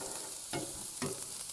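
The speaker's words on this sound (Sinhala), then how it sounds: "එහෙනම් දැන් මම ඒක කලවම් කරගන්නවා" Chicken kottu roti with leeks and egg being stirred and fried, with a steady sizzle and a few sharp scraping stirs of the utensil against the pan, close and alone.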